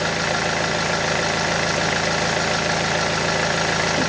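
A 2010 BMW 118d with a 2.0-litre diesel engine idles steadily in a garage during an automatic gearbox oil change, producing a constant, close, even rumble with a fine rhythmic knock and no voices.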